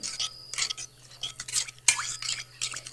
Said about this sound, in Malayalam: നല്ലതുപോലെ ഇളക്കി കൊടുക്കണം കേട്ടോ കട്ടയൊന്നും ഉണ്ടാവാൻ പാടില്ല